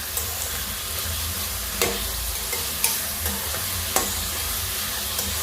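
Onions frying in a pan for a flat bean curry while being stirred, a steady close sizzle broken by a few sharp scrapes of the spoon against the pan.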